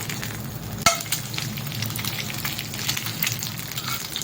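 A curry leaf egg omelette fries in a pan with a steady crackling sizzle, and a single sharp knock is heard early on; close and clear, with no talking.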